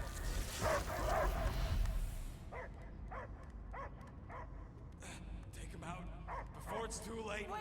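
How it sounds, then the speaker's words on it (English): A dog in the video game Marvel's Guardians of the Galaxy lets out a series of short barks and yips after a loud, noisy opening, the calls coming in a quick uneven run against game sound. "I hear only barking."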